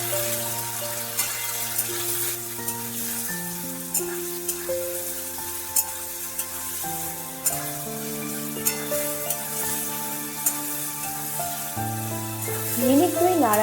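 Washed hog plums fry in a pan as they are stirred, a steady sizzle broken by sharp spatula clicks, heard under background music.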